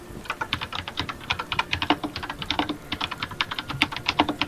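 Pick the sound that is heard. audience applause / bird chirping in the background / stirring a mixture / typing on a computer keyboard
typing on a computer keyboard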